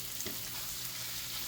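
Chopped onion and sausage fry together in a pan, giving a steady, close sizzle and crackle with a brief stir near the start.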